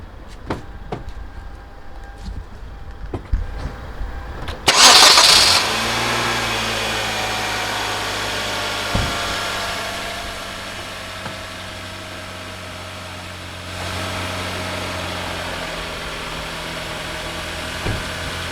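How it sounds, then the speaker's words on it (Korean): After a few faint clicks, a Hyundai NF Sonata engine cranks and catches with a loud burst. It then settles into a smooth, steady idle that carries on close by. "제가 시동 한번 걸어 보겠습니다"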